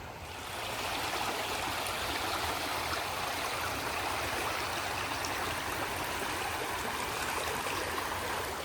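Water rushes steadily through the Blakeney Rapids stream, a broad, constant close-up roar of flowing water with no breaks.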